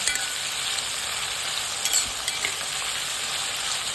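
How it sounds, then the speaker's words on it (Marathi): Bitter gourd frying crisp in a generous amount of oil gives a dense, continuous sizzle close by, with a few louder spits and crackles near the middle. "आपल्याला कारल्याचं फ्राय करायचं एकदम कुरकुरीत"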